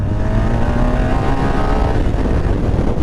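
Loud, close, rising engine roar from a BMW R 1250 RS motorcycle accelerating on the throttle, with heavy wind rumble blended into the sound.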